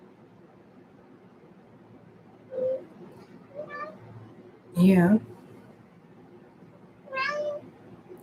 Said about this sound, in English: Incidentally, my cat just came into the room.